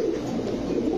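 Pigeons, including Pakistani Teddy, Saharanpuri and Rampuri breeds, coo at a pigeon sale, a steady low murmuring coo filling the space close by.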